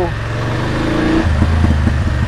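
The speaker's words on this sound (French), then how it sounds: "Ce qui est sympa, c'est que ce moteur il monte vraiment dans les tours." A BMW F850 GS motorcycle engine revs inside a tunnel, a loud steady drone that climbs in pitch, then drops to a lower rumble with short repeated throttle blips toward the end.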